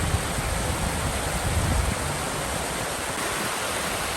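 Water rushes steadily through narrow carved rock channels at Little Niagara in Chickasaw National Recreation Area, a constant close hiss and gurgle with no pauses.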